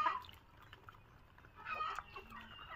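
Chickens cluck and call faintly on a fancy poultry farm that keeps Brahma and Silkie breeds, with short scattered clucks and a rooster-like call, and no talk.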